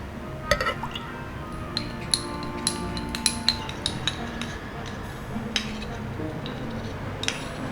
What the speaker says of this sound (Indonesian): Aduk rata sampai maizenanya larut.